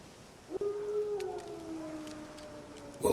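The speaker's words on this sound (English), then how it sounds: "Wild dogs. Yes. More dangerous than wolves." Wild dogs howl in The Witcher 3, one long rising and slowly falling wail joined by a second, heard at a distance over faint ambience, with a sharp sound at the end.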